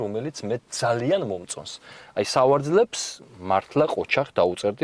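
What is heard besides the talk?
No distinct noise like a dog, phone or traffic.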